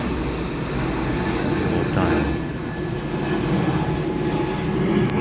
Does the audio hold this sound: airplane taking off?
yes